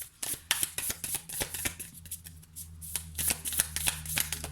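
Tarot cards being shuffled and drawn, a dense run of crisp riffling flicks and soft slaps at close range, with a low steady hum underneath and no talking.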